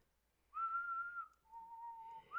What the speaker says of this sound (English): Shadow's perfecting his whistling skills